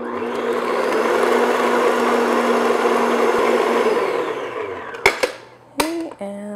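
An electric mixer beats pumpkin pound cake batter in a steady, loud whir for about four seconds, then winds down and stops, followed by a few sharp clicks and knocks of the bowl.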